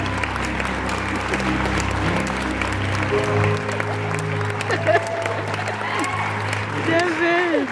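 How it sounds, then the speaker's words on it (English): A theatre audience applauds volunteers at a stage hypnosis show, a crowd of hands clapping steadily with a few scattered whoops. A low sustained musical tone runs beneath, and a voice speaks near the end. "Audience, let's give our volunteers a big round of applause."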